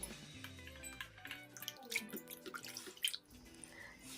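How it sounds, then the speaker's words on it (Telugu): Quiet splashing and dripping as Indian borage (vamaku) leaves are swished around in water, with small droplets falling at irregular moments. "ఆకులను అయితే తీసుకొని కొంచెం వాటర్లోని వాష్ చేస్తున్నాను"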